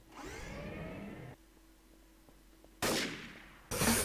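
Sniper rifle fire in the video game Garry's Mod, Trouble in Terrorist Town mode: a loud sharp report with a long fading tail, then quieter game noise, followed by two more abrupt loud bursts near the end.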